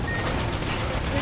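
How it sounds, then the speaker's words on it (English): Rapid machine gun fire in the Sand Land video game, a continuous loud burst of shots that runs the whole moment with a voice shouting over it. "Use the machine gun again!"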